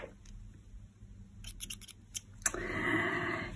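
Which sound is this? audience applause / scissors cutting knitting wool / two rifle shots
scissors cutting knitting wool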